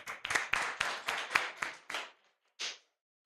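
A handful of sharp, close hand claps from one or two people, about seven evenly spaced strikes then a pause and one last clap, quiet and without talk, offered as applause for a speaker at a youth and revolution event.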